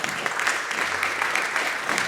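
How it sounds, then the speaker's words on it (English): A summit audience applauds for a speaker being welcomed, with steady, dense clapping that holds at an even level for the whole stretch and has no talking over it. "with a resounding round of applause"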